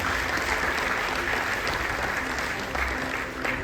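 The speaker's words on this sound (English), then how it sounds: "Please have a big round of applause for all the winners." School annual award ceremony audience applauding the winners, a broad, sustained roar of many hands clapping in a large hall, steady and full throughout with only a slight dip near the end.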